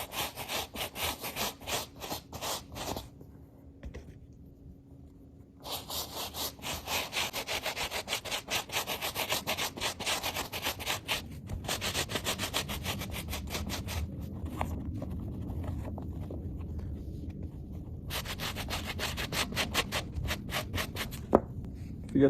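Stiff bristles of a Reshoevn8r brush scrub a shoe in steady back-and-forth strokes, a close, dry rasping that pauses briefly now and then before resuming.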